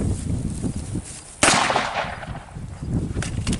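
A single loud gunshot fired at a computer monitor outdoors: one sharp, close report followed by a short decaying echo amid faint background noise.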